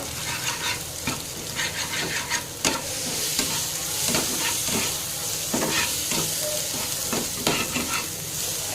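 An egg is scrambled in a sizzling frying pan for a brinjal dish, a spatula scraping and tapping in steady, repeated strokes over a constant close hiss of hot oil.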